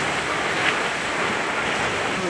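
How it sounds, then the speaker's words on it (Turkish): Steady rushing wind and breaking waves surround a sailboat making 8 to 9 knots in a 15 to 17 knot breeze on the Aegean, a continuous broadband roar with no pauses and no voices. "Rüzgar hala 15-17 mil arası esiyor."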